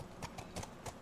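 Horse hooves clip-clopping while riding in The Last of Us, four or five quick, muffled thuds in a loping rhythm, faint and close, with no talking.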